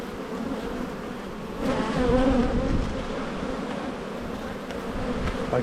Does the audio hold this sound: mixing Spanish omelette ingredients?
no